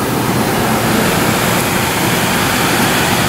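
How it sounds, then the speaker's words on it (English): A waste oil furnace fan blows hot air into an open shop with no ducting attached. It makes a loud, steady, broadband rush like a waterfall that holds unchanged for the whole clip, with no talking. "Now the fan's kicked on, and it's actually recirculating hot air."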